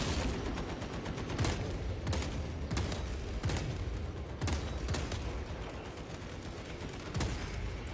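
Sci-fi weapons in Space Marine 2 unleash sustained, loud bursts of rapid automatic fire, with repeated heavy volleys pounding through the din close by.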